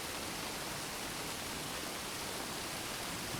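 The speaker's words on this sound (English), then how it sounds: "So allow the sound of the sacred rain to calm and soothe you." Rain falls in a steady, even hiss with no breaks or variation, a dense wash of droplets with no voices or other sounds.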